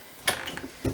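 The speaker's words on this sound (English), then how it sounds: "Closing the bedroom door." Bedroom door of a 2021 Zinger 320FB travel trailer swinging shut inside the RV, a short rattling thud followed by a second firmer knock as the latch catches, close and moderately loud with no talking.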